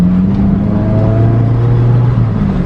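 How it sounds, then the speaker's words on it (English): A Honda Civic EG hatchback pulls away in second gear, its engine droning loud and steady with a low rising hum, close up and with no voices. "Second gear takeoff."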